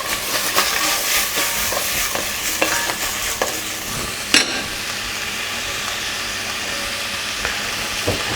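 Food sizzles and crackles steadily in a hot pan, a loud close hiss with occasional pops and stirring scrapes, no talking.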